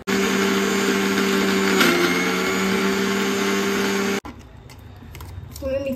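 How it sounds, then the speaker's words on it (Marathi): A puran grinding machine runs on cooked lentils and jaggery with a loud, steady electric whine for about four seconds, then cuts off abruptly, leaving faint kitchen clatter. "आता मी पूर्ण यंत्रात वाटून घेते"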